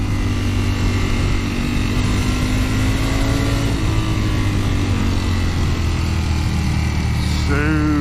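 A Ducati Panigale V4S motorcycle accelerating on the road, its engine droning loudly and steadily with rising pitch and a shift near the end, heard up close over rushing wind.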